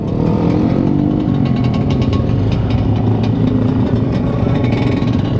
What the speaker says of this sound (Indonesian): Itu yang punya naik motor gua.